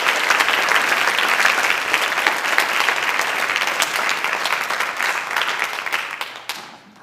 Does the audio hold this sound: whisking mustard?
no